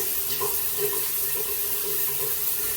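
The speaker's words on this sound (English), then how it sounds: "we heard the solenoid click, and the water is activated" Shower water runs steadily from a smart shower timer setup after its solenoid valve opens, a continuous broadband hiss with a faint tonal ring, heard alone at even loudness throughout.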